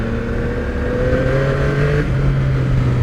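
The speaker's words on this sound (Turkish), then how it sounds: "şu an 4000 devirde filan gazı açıyorsun" Yamaha MT motorcycle engine pulling hard at around 4000 rpm, a loud, close, steady drone with a rising tone, with no talking.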